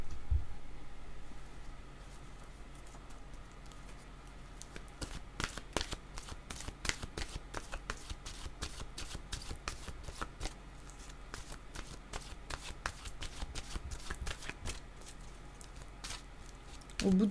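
Tarot cards being shuffled close up in a quiet room, a rapid series of crisp riffling snaps and flutters in bursts, with faint background hiss and no talking.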